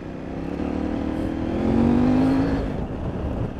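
A CFMoto 450MT motorcycle engine hums close by on an off-road ride, its tone rising and swelling midway and then settling back.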